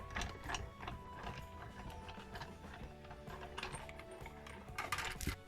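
A die-cutting machine presses cardstock in an embossing folder between plates, a continuous mechanical grinding and rolling rumble with clicks and creaks, moderately quiet and steady with no talking.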